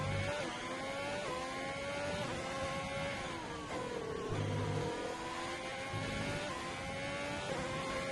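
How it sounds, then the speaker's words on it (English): Formula 1 race car engines roar continuously in F1 2020 at the Dutch Grand Prix, with high-pitched revving that rises and dips through gear changes, close and loud throughout with no talk. "I'm loving the sound of these cars at the moment."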